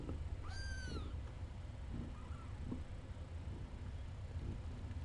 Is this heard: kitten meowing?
yes